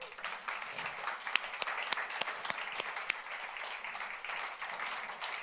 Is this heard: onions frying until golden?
no